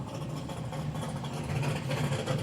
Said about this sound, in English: Ross has got the Falcon fired up. It's just idling away out the back here.